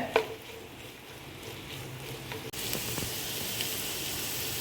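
Sliced onions with curry leaves soften in a hot pan, giving a soft, steady sizzle that jumps to a louder, brighter hiss about halfway through.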